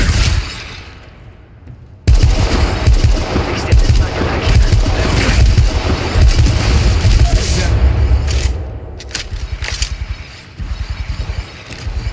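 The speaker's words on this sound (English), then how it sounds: "Opening fire." Gunfire in the mobile battle royale game Apex Legends Mobile: loud sustained automatic bursts and booms after a quieter opening, with rapid rhythmic shots toward the end.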